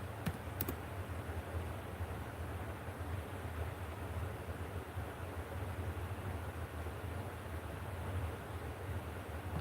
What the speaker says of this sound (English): let me type in Cheadle.